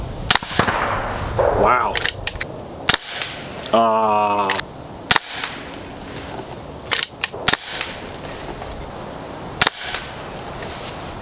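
Sharp shots from an ATI Nova Vista Liberty .22 PCP air rifle, several distinct cracks spaced a few seconds apart, loud and close, with a brief exclamation from a nearby voice between them.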